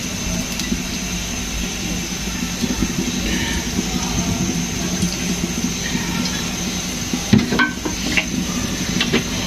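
Chicken pieces fry in a pan for karela chicken, giving a steady, moderately loud sizzle with a brief clink of a utensil near the end.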